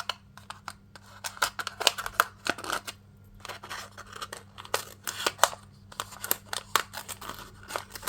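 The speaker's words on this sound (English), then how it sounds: "I'm going to cut this cup down" Scissors snip through a cup again and again, giving close, crisp, irregular cuts with some crinkling of the material in between.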